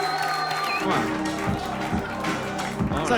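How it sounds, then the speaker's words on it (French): At a comedy club, an audience claps for a short stretch while a performer talks over it. "on l'applaudit"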